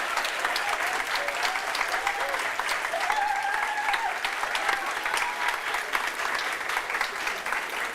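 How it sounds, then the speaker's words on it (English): Sustained audience clapping in a hall as a vote for a debate team at a climate and health event, a dense, even wash of applause with faint voices underneath. "if you think that the faux team did an excellent job putting that argument forward, please clap now."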